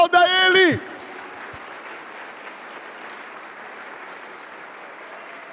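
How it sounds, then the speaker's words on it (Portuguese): Church congregation applauding after a shouted voice at the very start, a dense sustained wash of clapping from a large crowd filling the room, steady and even. "Aplauda Ele!"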